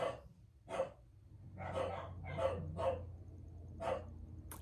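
Several separate dog barks ring out at a moderate distance, spaced irregularly with short pauses between them, over a low steady hum.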